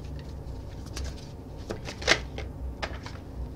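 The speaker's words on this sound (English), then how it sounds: "let me give them a good fluff, a good shuffle here" Tarot cards riffled and fluffed in a few soft papery bursts, close and quiet, with one sharper flurry midway and no talking.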